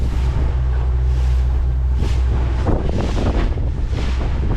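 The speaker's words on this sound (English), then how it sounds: "That wind blowing against the current." Wind and water wash steadily against a small boat under way on a river during a boat camping trip, with heavy low rumbling wind buffeting on the microphone and splashing surges throughout, loud and continuous with no talking.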